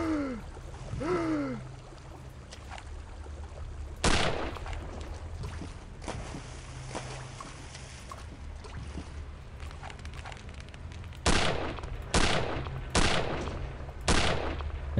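Gunfire in the video game Return to Castle Wolfenstein: several sharp, loud shots spaced irregularly, a few in quick succession near the end, over a constant low game rumble and ambience.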